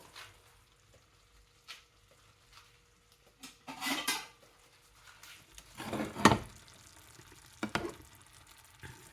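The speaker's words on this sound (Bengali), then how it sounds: "একটি চামচের সাহায্যে আমি এখন কোফতাগুলোকে উঠিয়ে নিব।" A metal spoon scraping and clinking against a cooking pan while lifting koftas out, with a few soft taps, then louder clattering scrapes and a faint sizzle, close and fairly quiet.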